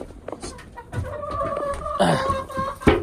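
Chickens cluck and call close by while pecking at scraps of leftover rice and eggshells, the clucks coming in short bursts with a louder squawk near the end.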